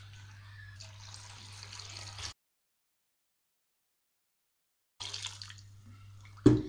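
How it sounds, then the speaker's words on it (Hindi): Water is poured into a cooking pot holding meat, lentils, whole red chillies and spices, a steady splashing stream that stops, pauses in silence, then resumes briefly. "अच्छी तरह से हम मिक्स करते हैं और इसमें पानी डालते हैं।"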